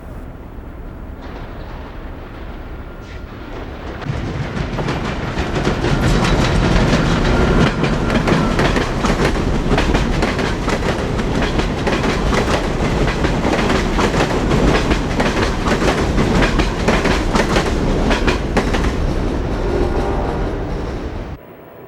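An AEM-7 electric locomotive hauling a Bay State passenger train on the Northeast Corridor rumbles past close by, loud and sustained, with rhythmic clickety-clack of wheels over rail joints building and then fading.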